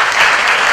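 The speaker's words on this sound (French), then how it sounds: "Ça mérite des applaudissements." A loud, dense burst of audience applause honors a football federation agent retiring after 38 years, brief and steady with no gaps.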